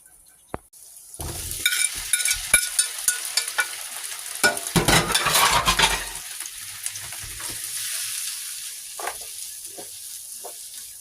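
Green pepper, red pepper and onion sizzle and fry in a pan, with stirring and scraping louder in the middle before settling into a steady, close crackle.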